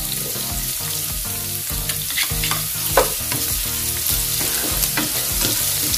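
Onion and ginger frying in a pan for chicken curry: a continuous loud close sizzle with repeated scraping stirs and clinks throughout, no talking.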